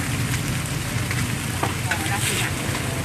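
Two portions of pad thai fry in a pan at a food shop, producing a continuous, fairly loud sizzle with a few small clinks and scraping sounds.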